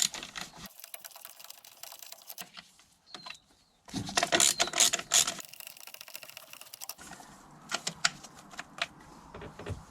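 Ratchet with a 10mm socket working bolts on a BMW E60 M5 engine bay during throttle actuator replacement, heard as bursts of quick mechanical clicking and whirring separated by quiet gaps, fairly close.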